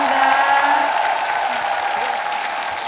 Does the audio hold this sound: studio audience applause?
yes